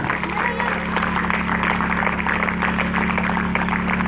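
A church congregation claps and cheers loudly in a continuous, dense burst of applause, with a steady low hum underneath throughout.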